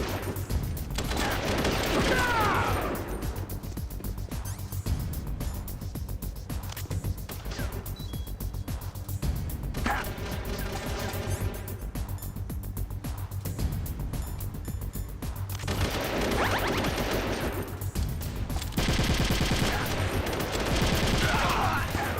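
Enemy gunfire in Metal Gear Solid: The Twin Snakes, sustained rattling automatic bursts swelling and fading over a low ambient drone, loudest at the start and again toward the end; no voices.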